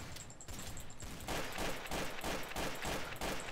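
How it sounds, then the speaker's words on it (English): Trouble in Terrorist Town video game gunfire comes as a rapid, loud burst of repeated shots in an even rhythm, nearly filling the clip, with no talking over it. "I shot him in the back."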